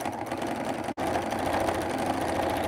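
A sewing machine stitches a quilt-as-you-go Christmas stocking made from fabric squares, a loud, close, continuous whirring drone with one split-second stop before it runs on steadily.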